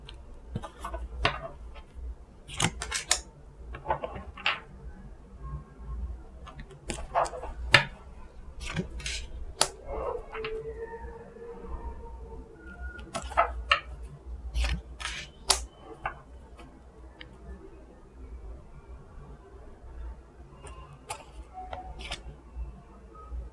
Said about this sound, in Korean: 여러분께 필요한 타로 카드 셔플 한번 하고, 뽑아보겠습니다